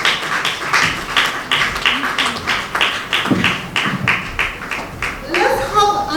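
Guests at a university association's anniversary symposium clap for a professor, a quick run of rhythmic claps that carries on for several seconds, with a voice starting up as it fades.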